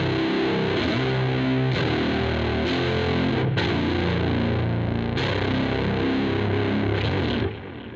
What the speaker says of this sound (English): it is the synth bass that I showed you before, washed in reverb and delay.